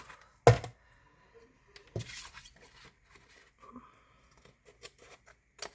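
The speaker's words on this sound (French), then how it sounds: "Je vais couper au ciseau" Scissors snip through paper while a small handmade mini album is being assembled, giving a few short, sharp, close cuts separated by quiet gaps and light handling noise.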